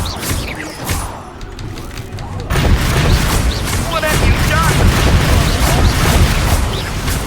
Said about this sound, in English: Jó lesz ez a bombárda.